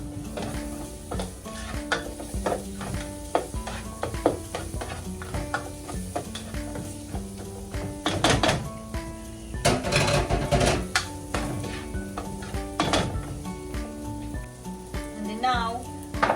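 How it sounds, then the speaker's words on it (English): Ginger and onion sauté in a hot pan with continuous sizzling and frying, broken by scraping stirs and clinks of a utensil against the pan, with a few louder bursts of activity. "Saute the ginger. Saute the onion."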